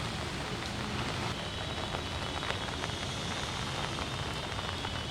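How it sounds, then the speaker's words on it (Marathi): Heavy monsoon rain pours down steadily in Nashik district, a dense, unbroken hiss of drops on surfaces with no voices. "सकाळपासून जो मुसळधार पाऊस कोसळतोय"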